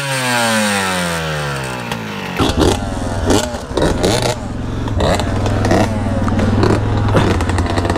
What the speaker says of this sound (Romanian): Hai să vedem cum pornește 2 timpi față de 4.